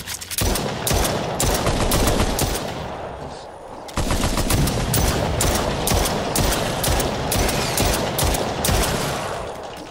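Automated gun turret in the VR shooter The Brookhaven Experiment firing loud, rapid sustained bursts of gunfire, with a brief pause before the barrage resumes and continues unbroken.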